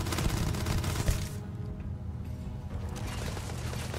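Rapid bursts of gunfire from the space RPG Starfield, loud and dense with booming low end, pausing briefly before the shooting resumes.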